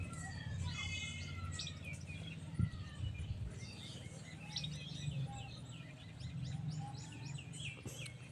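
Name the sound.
pigeons cooing and calling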